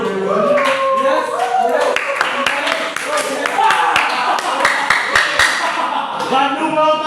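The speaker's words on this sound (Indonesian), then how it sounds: "Oke, tepuk tangan dulu." Classroom clapping during a school teaching-practice lesson, scattered sharp hand claps running through the whole stretch while students talk and chatter loudly over them.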